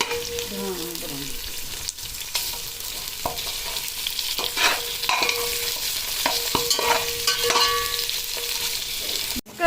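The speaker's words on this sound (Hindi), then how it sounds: "अभी ये हम बोटियों को भूनेंगे। बोटियों को इसके अंदर डाल के मिक्स कराते रहेंगे।" Boti meat pieces fry in a pot for Eid pilaf, sizzling loudly and continuously while a spoon stirs and scrapes with intermittent knocks, no voices.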